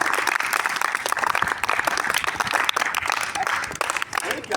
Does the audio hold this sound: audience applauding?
yes